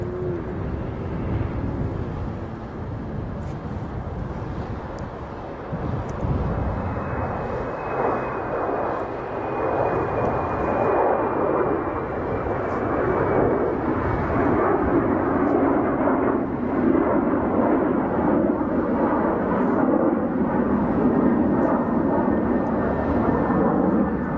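A Scandinavian Airbus A350-900 at Chicago O'Hare roars steadily, its jet engines giving a loud, continuous broadband rumble that swells slightly as it goes, with a thin whine riding above.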